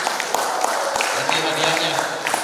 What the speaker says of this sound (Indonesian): tepuk tangan buat Syahid